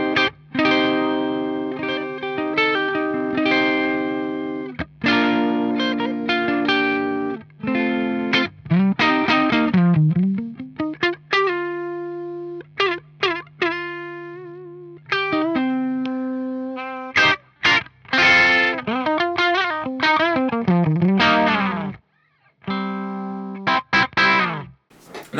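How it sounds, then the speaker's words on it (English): Electric guitar with a P90 neck pickup played through a Marshall DSL50 on its clean channel, ringing chords and single-note lines with a touch of chorus-like shimmer, loud and close, alone without talk. "So on the neck pickup P90, it sounds like this."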